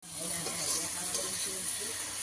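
Pork fries in a pan outdoors with a steady, close hiss and sizzle that starts abruptly and continues evenly, with a voice talking over it.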